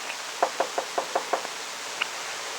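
Knuckles rap on a door in a quick, evenly spaced run of about six sharp knocks, followed after a pause by one more lone knock. The knocks are moderately close and crisp, with no voices.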